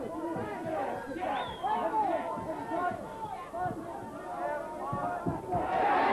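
A boxing crowd fills the Jury's Hotel in Dublin with a steady roar of cheers and shouts. A commentator talks over the excited noise throughout, and it swells louder toward the end.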